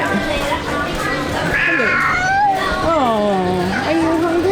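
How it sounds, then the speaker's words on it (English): Cat meowing up close, with several drawn-out, wavering meows in quick succession over a busy background while a person talks. "Kitty cat."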